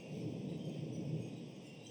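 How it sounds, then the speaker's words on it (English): Low, steady rumble of thunder after a lightning strike, a continuous rolling roar heard alone without talk. "That was lightning. That was definitely lightning"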